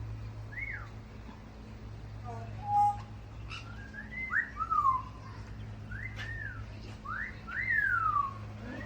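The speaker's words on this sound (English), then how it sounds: "I like to hear the birds. They were very active and they were all whistling" Zoo birds whistle repeatedly in rising and falling sweeping notes, spaced through the stretch over a low steady hum, fairly close and clear.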